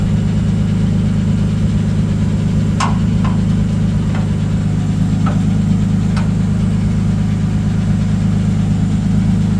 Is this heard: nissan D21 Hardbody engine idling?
yes